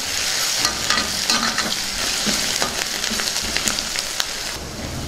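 Turmeric is stirred into an eggplant and pea curry frying in a pan: a continuous oily sizzle broken by irregular sharp scrapes and clicks of a spoon against the pan, close and alone.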